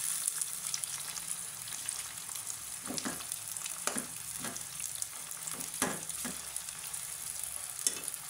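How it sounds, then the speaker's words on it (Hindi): Onions for a biryani fry in a pot with a steady, close sizzle, broken by several soft scraping stirs. No one speaks. "सारी प्याज मैंने इसमें डाल दी है। अच्छी तरह अब इसको मैं पकाऊंगी,"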